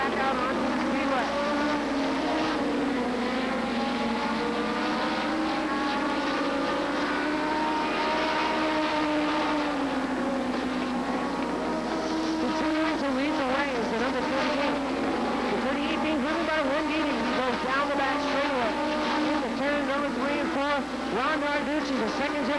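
Stock race cars roar around the oval at Seekonk Speedway on a Wednesday race night, a continuous layered engine drone rising and falling in pitch as cars pass, heard from a distance under steady commentary.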